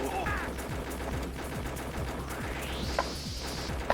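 Rapid gunfire while shooting a boss in the Confidential Mission arcade game, a steady stream of repeated shot impacts under a constant wash of game music and effects, with a rising electronic sweep near the end.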